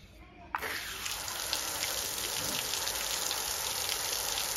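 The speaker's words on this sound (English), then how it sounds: "So I take the pump and feed water to it with the house pipe." Water from a house pipe pours into a water pump, a steady broadband hiss and splash that starts abruptly and keeps going loud and even to the end.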